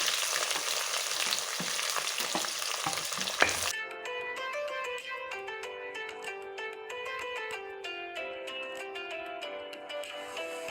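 Tomato, green chilli, curry leaves, onion, garlic and ginger hit hot oil in a clay pot with a loud, steady sizzle lasting a few seconds, then music takes over.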